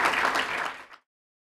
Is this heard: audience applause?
yes